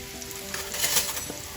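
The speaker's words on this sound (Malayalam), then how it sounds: "ആവശ്യത്തിന് ഉപ്പ് ചേർത്ത് കൊടുത്ത് പെട്ടെന്ന് നമുക്ക് ഇത് വഴറ്റിയെടുക്കാം." Masala sautéing with salt in a hot pan, a close crackling sizzle with faint scraping of the stirring, brief and continuous.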